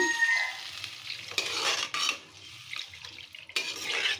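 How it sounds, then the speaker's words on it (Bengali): Water is poured into a pan of frying potato and egg masala, setting off a sizzling, bubbling hiss that flares in several close bursts and then settles between them. "জল দিয়ে দেব।"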